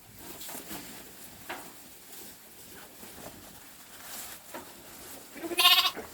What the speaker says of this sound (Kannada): ಇಲ್ಲಿ ಕುರಿ ಇದಾವೆ